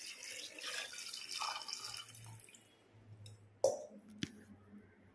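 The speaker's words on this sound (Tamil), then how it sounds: "திக்னஸ்க்கு ஏற்ற மாதிரி நம்ம வந்து தண்ணி ஊற்றிக்கலாம்." Water poured from a vessel into a pot of simmering radish sambar (mullangi sambar), a soft close-up liquid stream and splashing over the first half, then quieter with a couple of sharp clinks near the end.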